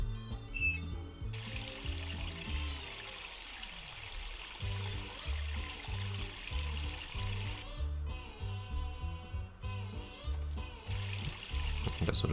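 A faucet runs in the SpongeBob SquarePants Movie video game, a steady hiss of pouring water over looping game music, cutting off briefly before resuming.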